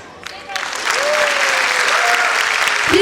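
A school annual day crowd of children and parents breaks into loud, dense applause that swells quickly and holds steady, with a few voices and cheers mixed in.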